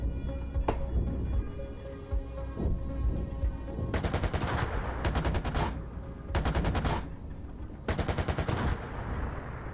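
Bursts of automatic gunfire aimed at an M113 armored vehicle in the tank game GHPC, four loud sharp volleys in quick succession over a steady engine rumble.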